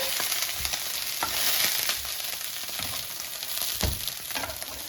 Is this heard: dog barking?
no